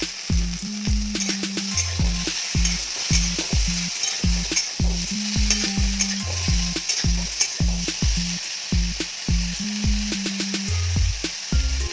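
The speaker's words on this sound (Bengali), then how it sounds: "এবার ঝিঙেটা হালকা ভাজা হবে বেশি ভাজা হবে না" Ridge gourd tossed into a pan of frying potatoes for a Bengali posto dish, with a steady sizzle under rhythmic spatula scrapes and knocks repeating throughout, close and fairly loud.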